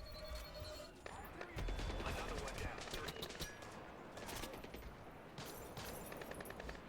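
Gunfire in a realistic-mode shooter video game, repeated rapid bursts and single shots cracking throughout with a steady battle din, while someone talks over it.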